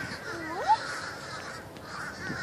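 Harsh cawing calls from crows in treetops, a couple of loud rising caws nearby with more calls further off, over a quiet outdoor background.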